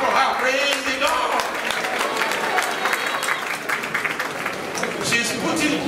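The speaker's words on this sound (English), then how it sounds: "Let's clap for her." Sustained audience applause, a dense wash of many hands clapping steadily for several seconds, with a few faint voices mixed in.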